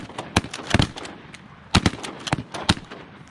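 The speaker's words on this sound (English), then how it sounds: "Shoot him now." Several sharp outdoor gunshots crack out in irregular bursts, some close together, from a shotgun firing shotgun shells, loud and echoing with no talk between them.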